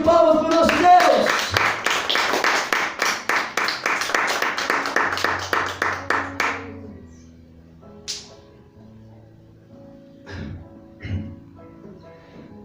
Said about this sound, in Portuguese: Dê uma salva de palmas para o nosso Deus.